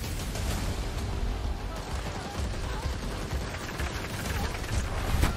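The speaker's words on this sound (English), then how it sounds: "I'm just shooting this gun at this wall." Gunfire in a Batman-themed video game, a gun repeatedly shot at a wall, as a dense, steady rattle of shots running throughout at a fairly constant level with no clear gaps.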